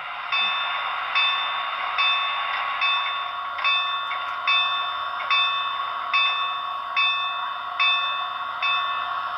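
A steady clanging bell from the sound system of a Broadway Limited NYC Niagara S1b 4-8-4 model steam locomotive with Paragon 3 DCC sound rings at an even pace, about a dozen strikes, each with a bright metallic ring over a faint mechanical hum.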